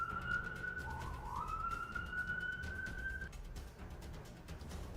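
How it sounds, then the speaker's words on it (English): A distant siren wails outside, a long steady tone rising slightly in pitch over a low background rumble. "there's sirens going on outside"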